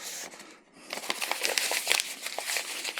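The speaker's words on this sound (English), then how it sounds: "Then we're just going to kind of crumple it up" Paper torn from a sheet is crumpled by hand for a camp stove, giving close, crisp crinkling bursts after a brief pause, with irregular crackles continuing to the end.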